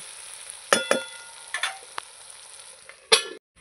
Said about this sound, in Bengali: এবার আমি আর একটু ঢাকা দিয়ে এগুলোকে ভেজে নেব